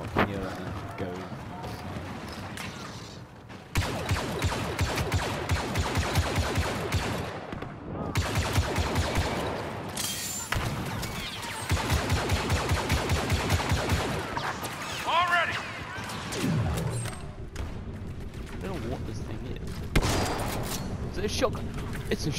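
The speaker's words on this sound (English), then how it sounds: "It's a shotgun!" Shotgun blasts in a video game ring out in repeated bursts amid loud, busy game action and mixed noise, with gaps between volleys.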